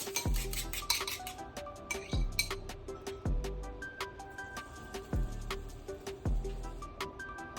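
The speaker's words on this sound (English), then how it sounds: "We're gonna get whipping our eggs all up, get them nice and airy" Eggs being whisked for an omelet wrap, a quick run of metal clinks on a bowl followed by steady rhythmic tapping strokes, close and with no voices.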